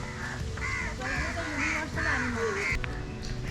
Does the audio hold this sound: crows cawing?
yes